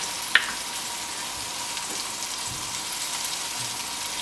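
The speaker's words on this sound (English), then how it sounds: "there you have your sizzling crab claws with garlic, chili and olive oil" Crab claws in garlic, chili and olive oil sizzle steadily in a hot dish, a soft continuous hiss with one brief click near the start and no voices.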